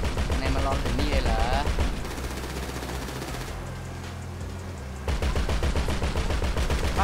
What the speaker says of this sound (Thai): ในด่านพวกนี้มันชอบใช้ไอ้ปืนกลนะครับ